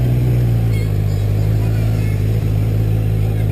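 Kawasaki Z1000 2020 base-model hyper bike engine droning steadily while riding, a loud continuous low hum with wind rush, close and unbroken throughout.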